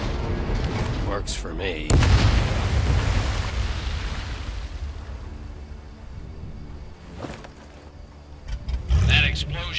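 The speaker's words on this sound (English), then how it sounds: "That explosion got the attention of all the German patrols in the area." A sudden deep boom in the Medal of Honor Above and Beyond video game, a World War II shooter, gives way to a long rumbling roar that slowly fades, with a voice talking briefly over it.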